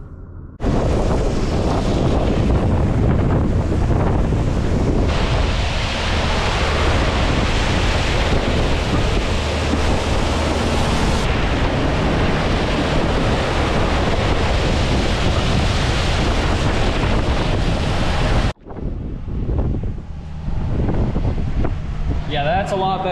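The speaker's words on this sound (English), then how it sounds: "I'm gonna take the pressure washer and kind of rinse everything off" A pressure washer rinses down fresh concrete and the gravel beside it after saw joints were cut, a steady loud broadband spray running continuously for most of the clip before cutting off near the end.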